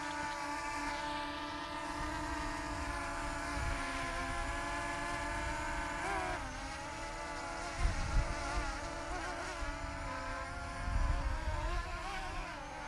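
An Eachine EX5 sub-250 g GPS quadcopter drone hovers in wind with a high, buzzing whine of small propellers, its pitch wavering and sliding as gusts push it around, with occasional low thumps of wind.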